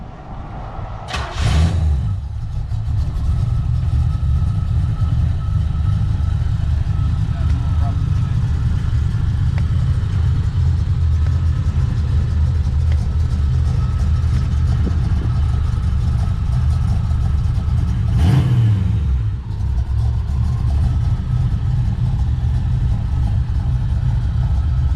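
C4 Corvette fitted with a stage 2 performance chip runs steadily near the microphone, a continuous engine drone with two brief sharper bursts that could be revs or the starter, and no talk over it.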